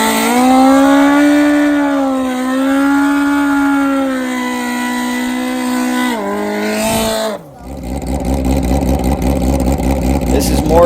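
A nitrous street-tire drag motorcycle, Hayabusa or ZX14 type, screams loudly at high revs with a steady whine that drops and shifts, then the roar continues rough and close.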